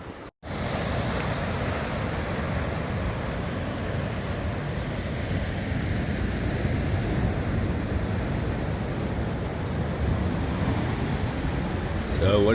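Ocean surf rolls in at Storms River mouth in Tsitsikamma National Park, a steady, loud wash of breaking waves with wind rumble filling the whole stretch and no talking.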